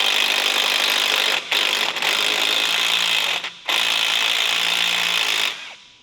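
Prying and spinning out a suspension bolt on a Porsche 992 Carrera during a coilover install: a steady, loud scraping and whirring tool noise with two brief pauses, running on for about five seconds before it stops.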